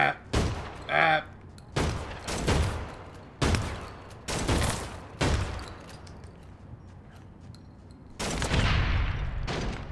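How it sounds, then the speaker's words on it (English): Shotgun fire in the online game APB Reloaded, with about eight loud, heavy blasts spaced roughly a second apart and a longer burst near the end, each with a rumbling tail. "Now what shotgun is that she's using?"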